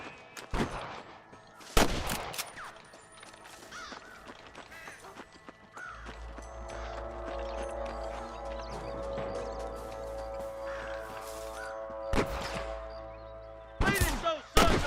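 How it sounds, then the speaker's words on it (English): Sharp gunshots crack out sporadically in Red Dead Redemption, some single and some in quick bursts, over a low rumbling game soundscape and a sustained droning tone. "I can hear more gunshots."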